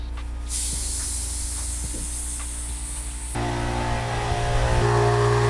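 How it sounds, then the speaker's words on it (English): A steady, loud spray-gun hiss of base coat being sprayed inside a car's trunk runs for most of the clip, then shifts to a broader, rougher rush over a low mechanical hum. "my dad is currently spraying the trunk right now"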